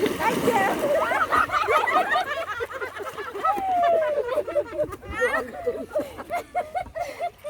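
Water scooped and splashed during a Bengali wedding Ashtamangala ritual, with repeated sloshing splashes and scattered bird-like chirps in the background, partly under lively talk from several people nearby.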